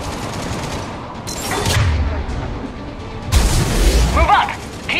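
Mounted gun firing in the video game Mass Effect 3, heard as bursts of booming gunfire in a busy battle mix, strongest toward the end, with shouted voices over the shots.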